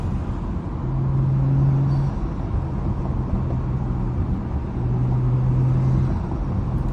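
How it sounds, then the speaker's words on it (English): A BMW car's engine on a canyon backroad hums as a steady low drone with slight rises in pitch, as if gears are being shifted down. The cabin sound stays loud and constant, with no talking. "Nothing but some little downshifts."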